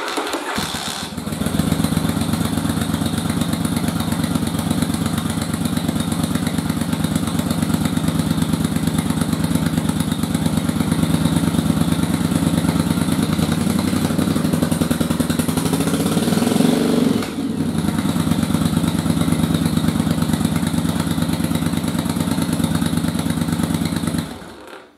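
A motorcycle engine with a rejetted carburetor starts and runs loudly nearby, rumbling steadily with a brief dip and rev around the middle before cutting off.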